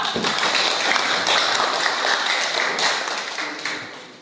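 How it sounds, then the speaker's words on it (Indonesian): Students in a classroom applaud, producing a dense burst of clapping that holds steady for a few seconds and then gradually fades. "Tepuk tangan semua."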